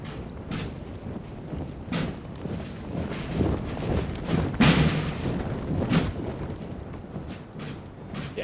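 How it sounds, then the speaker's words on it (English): Cannon fire from 8-pounder field guns in a Napoleon Total War multiplayer battle, several dull booms and thuds at irregular intervals over a constant battlefield rumble, with one heavier blast near the middle. "8-pounders here firing."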